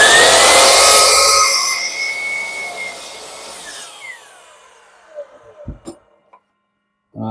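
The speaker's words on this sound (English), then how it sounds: "having the miter saw does make it that much easier" A power miter saw cuts through wood in a workshop, a loud whining blade burst at the start that winds down over a few seconds, followed by faint clunks and handling noises.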